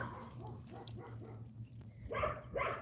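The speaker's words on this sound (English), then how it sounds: "Got a lot of barky dogs out here." Outdoor dogs bark a few times from some distance, faint repeated woofs rising into two louder barks near the end over a low background hum.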